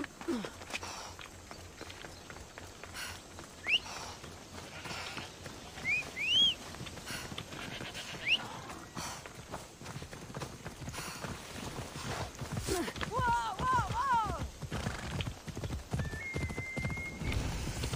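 Horse hooves clip-clop steadily in Assassin's Creed Odyssey, a rhythmic trotting that quickens toward the end, with a neigh and a few sharp game effects layered over it, while a voice talks intermittently.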